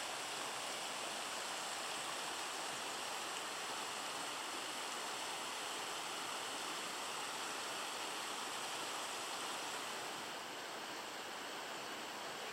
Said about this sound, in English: Let's look at the creek here.